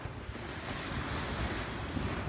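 Surf rolling onto Ocean Beach in New South Wales, a continuous soft roar of breaking waves mixed with wind buffeting, fairly faint and heard alone.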